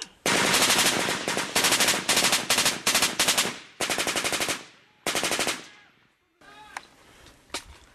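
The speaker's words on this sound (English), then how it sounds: "There's a machine gun out there." Machine gun fire during a combat firefight in Afghanistan, loud and close: long sustained automatic bursts broken by short pauses, ending with a few scattered single shots further off.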